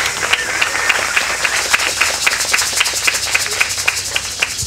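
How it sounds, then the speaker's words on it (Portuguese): An audience at an indigenous mental health conference applauds a speaker, a steady wash of clapping with sharp individual claps throughout, loud and close with no talk. "Palmas pro Dário, gente."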